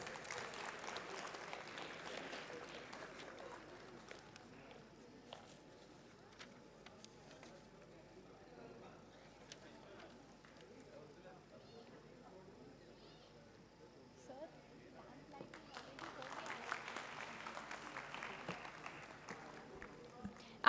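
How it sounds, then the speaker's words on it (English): Faint audience applause at a convocation ceremony rises at the start and swells again near the end, distant and soft, with quieter murmuring and room noise in between. "Can we please give them a huge round of applause?"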